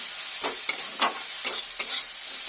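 Onion and tomato fry in a pan with a steady, close sizzle while a spoon stirs them in several distinct scraping strokes at roughly half-second intervals, with no one talking.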